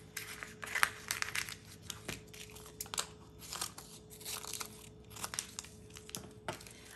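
Vinyl decal sections on transfer tape are cut apart by hand for a boho fern diffuser craft project, giving a run of close, crinkly crackles and crisp snips in irregular bursts with a faint steady hum beneath.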